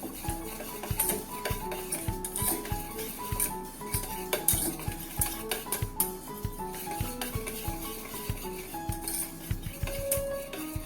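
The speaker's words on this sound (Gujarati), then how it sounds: "ચણાના લોટને આપણે દહીં સાથે સારી રીતે મિક્સ કરી લઈએ" Gram flour stirred into yogurt for kadhi, with a spoon clicking and scraping against the bowl in a quick, steady rhythm. The sound is moderately quiet, with soft tonal background music underneath and no talking.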